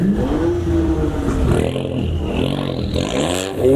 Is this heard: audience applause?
no